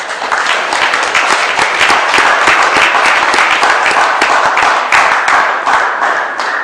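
Audience clapping at a seminar for youth camp participants in Niger State, a loud, dense burst of many hands sustained for several seconds.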